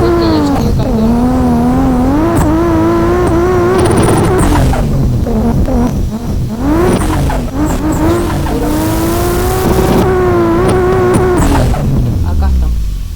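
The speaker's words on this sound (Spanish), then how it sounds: "Ya el sonido del turbo se lo incluimos porque es el sonido del Supra, que ya lo trae." A Toyota Supra turbo engine in the rFactor racing game revs and drones continuously with shifting pitch, tire squeal mixed in, while a voice talks over it.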